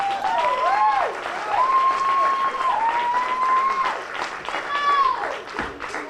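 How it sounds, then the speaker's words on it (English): An audience at a concession speech applauds and claps steadily, while loud whistles and cheering voices rise over the clapping. "You can clap for that"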